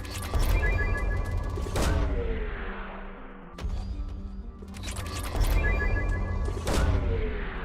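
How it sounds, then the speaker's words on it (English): Probe launches in Mass Effect 2, a series of sharp booming blasts with long rumbling decays, about four heavy hits spaced a second or two apart, loud and alone. "Launching probe."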